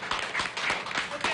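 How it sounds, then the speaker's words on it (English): Brief scattered clapping at a by-election results press conference, a few hands patting in a loose rhythm, with speech-like sounds mixed in. "I think people of Punggol East and Lilian deserve an applause."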